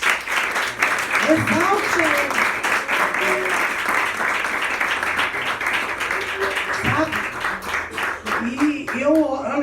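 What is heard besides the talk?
applause, clapping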